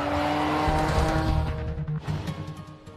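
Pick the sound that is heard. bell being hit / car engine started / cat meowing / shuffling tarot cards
car engine started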